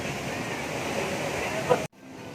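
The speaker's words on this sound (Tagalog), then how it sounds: "Malakas ang alon" A steady, loud roar of strong ocean surf and wind at a beach resort in Real, Quezon, during the windy northeast monsoon, cutting off abruptly near the end.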